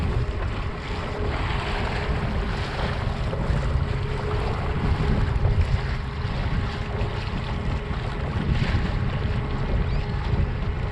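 An Old Town ePDL+ pedal-drive kayak cruises at its highest power setting over choppy water, with steady wind buffeting and water slapping against the hull throughout, no voices.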